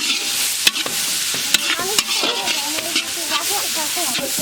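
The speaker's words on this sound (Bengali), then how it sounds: "কড়াইতে তেল দিয়ে দিচ্ছি। পেঁয়াজ দিয়ে দিচ্ছি ভিতরে, বেরেস্তা করে নিব।" Onions frying in oil in a wok for beresta, a loud steady sizzle close up, broken by several sharp scrapes and knocks of stirring.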